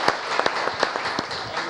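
Applause from an audience at a community association show, a dense patter of many hands clapping close by with scattered sharper claps standing out, continuous through the short stretch.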